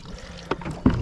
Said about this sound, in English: put a little bit of water on this carpet here.